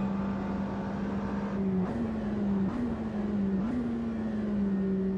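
A race car engine in the Automobilista 2 racing game pulls hard at steady high revs, with brief dips at three gear shifts before it climbs again. The sound is loud and continuous, with no voices over it.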